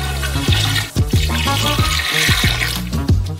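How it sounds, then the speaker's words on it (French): Water poured into large bowls of sugar for a giant Bounty-style coconut treat, a continuous splashing, gurgling pour broken by repeated sharp thuds and clunks, loud and close. "Ajoutez également 1 litre d'eau chacun."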